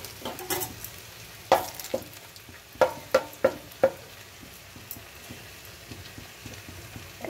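Bay leaves dropped into hot oil for chicken pulao, giving a steady close sizzle broken by several sharp stirring clatters of a spoon against the pan, with no voices.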